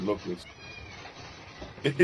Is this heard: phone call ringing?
no